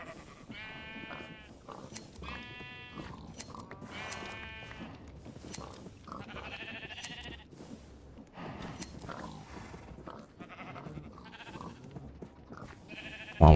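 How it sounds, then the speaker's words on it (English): Several sheep bleat in a modded Minecraft world, a series of wavering, nasal calls arriving one after another in quick succession, fairly close and distinct over a quiet background. "I gotta shear some"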